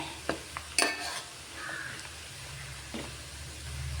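Herbal hair oil, half a litre, warming in a pan with a spoon stirring it: soft sizzling under a few sharp metallic clinks and scrapes, quiet and close.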